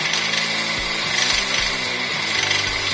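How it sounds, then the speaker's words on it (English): A wood lathe turns slowly while Hampshire Sheen is rubbed onto the spinning bowl, giving a steady motor hum with a soft rhythmic rubbing and thumping repeating about every second, close and fairly loud. "Lathe running slowly."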